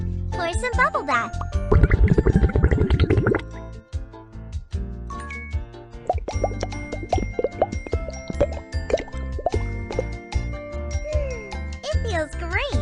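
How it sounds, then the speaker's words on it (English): Cartoonish video game sound effects as bubble bath is poured into a bath: bubbly plops and tinkling chimes over upbeat music, with a bright pouring swish early on. "Pour some bubble bath."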